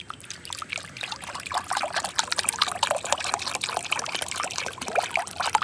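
Water pours and trickles steadily into a container of neem paste, a continuous splashing gurgle lasting several seconds with no talking.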